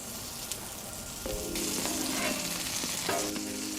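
Chicken pieces dropped into hot peanut oil on a Blackstone griddle, a bubbling deep-fry sizzle that swells and stays loud and close after the drop, with no voices.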